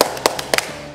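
A few sharp hand claps from a Sunday school children's worship cheer, short irregular slaps in quick succession with no talking between them.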